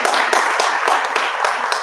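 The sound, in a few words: audience clapping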